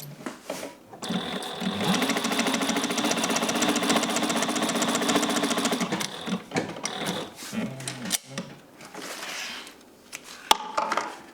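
A Juki 1541S industrial sewing machine stitches thick Cordura fabric, a steady loud mechanical run of rapid needle strokes lasting several seconds, then slowing and stopping with a few shorter bursts and clunks.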